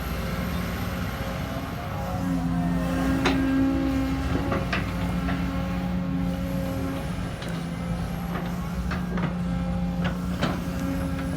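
Sumitomo SH210-F5 hydraulic excavator working on slope shaping for an irrigation project, with a steady engine drone, sustained hydraulic whine tones and scattered clanks and knocks.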